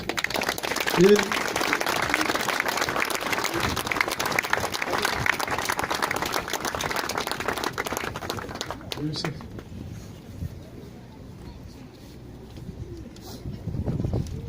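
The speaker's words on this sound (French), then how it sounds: "vous pouvez les applaudir" Outdoor applause for families at a gathering, a dense burst of crowd clapping lasting several seconds before thinning out, with birds cooing nearby and voices talking over the end.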